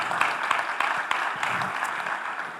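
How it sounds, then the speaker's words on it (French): An audience claps steadily in a packed conference hall during a talk on making light vehicles more widespread, a dense, even wash of many hands with a few sharper claps standing out. "On peut l'applaudir, ça."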